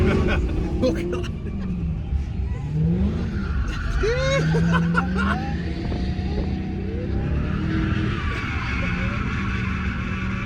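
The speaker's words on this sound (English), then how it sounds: "watch Hellcat Chargers and Challengers drift over there" Dodge Hellcat Chargers and Challengers drift in the distance, their tires squealing in repeated screeches over engine revs, while people talk and react nearby.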